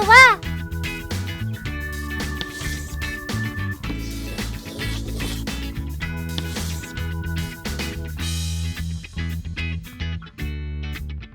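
A cartoonish meow rings out loud at the start, then a bright tune plays on with cheerful melody and steady beat.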